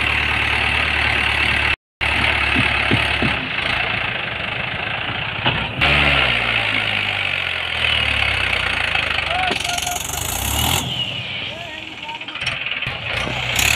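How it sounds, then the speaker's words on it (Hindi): A Mahindra 575 DI XP tractor engine strains and revs hard, trying to pull out a trolley loaded with wood, a loud and steady diesel roar that surges and dips while someone talks over it. "ये देखिए यहाँ पर एक बार और फिर से जो ट्राई किया जा रहा है निकालने के लिए ट्रैक्टर को"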